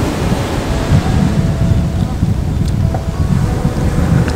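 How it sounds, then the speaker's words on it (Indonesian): Evening surf rolls in at Depok Beach in Pekalongan on Java's north coast, waves washing in over a rough, gusty wind buffeting the microphone, loud and close. "Suasana Pantai Depok, Kabupaten Pekalongan ketika sore."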